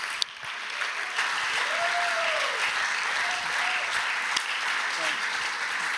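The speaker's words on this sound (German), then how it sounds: "Gebt doch einmal einen riesen Applaus" Big applause from a church audience welcoming a guest onto the stage, a loud, even roar of clapping throughout, with a few faint whistles and shouts mixed in.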